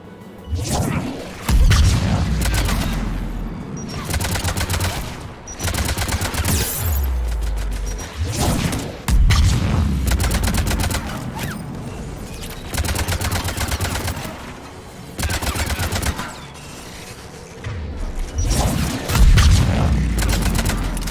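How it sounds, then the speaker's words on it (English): Repeated heavy booms from anti-aircraft guns in Mass Effect 3, each a loud deep blast with a rumbling tail, arriving in an irregular series roughly every couple of seconds over continuous game music and ambience. "There, the anti-aircraft guns."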